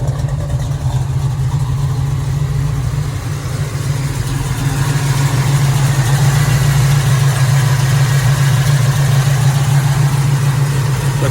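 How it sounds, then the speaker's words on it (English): A 1969 Chevrolet Nova with a fuel-injected 427 engine and a 4-speed Hurst shifter idles steadily, a loud, deep, continuous rumble with no talking over it. "Let's listen to the engine."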